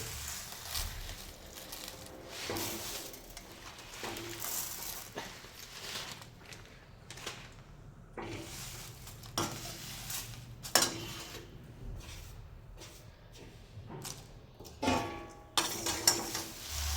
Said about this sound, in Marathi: सर्व हे मसाले खडे तेजपान बडीशोप सगळं टाकून घेऊया जिरे पण लगेच टाकून घ्यायचे आहे